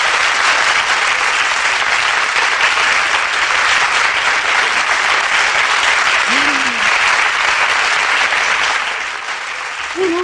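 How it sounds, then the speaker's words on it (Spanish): Sustained audience applause for an actor at a Spanish cinema event, dense and steady clapping throughout, fading slightly near the end. "De aquí un aplauso a ti, a Manolo Solo."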